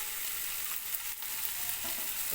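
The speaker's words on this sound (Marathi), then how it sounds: "हे छानपैकी फ्राय करून घ्या." Katla fish pieces fry in a pan with a soft, continuous crackling sizzle, close but fairly quiet, with slight stirring scrapes and no speech.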